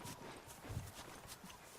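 Horse hooves clip-clop softly in The Last of Us, a few faint, uneven hoof falls at a walking pace with low thuds, heard at a distance and fairly quiet.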